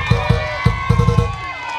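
Crowd at an outdoor political rally clapping and cheering for Mgore, with bursts of claps and shouts in an uneven rhythm over a steady sustained tone, loud and close.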